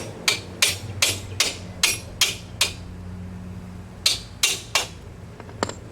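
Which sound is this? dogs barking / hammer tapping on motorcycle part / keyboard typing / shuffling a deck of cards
hammer tapping on motorcycle part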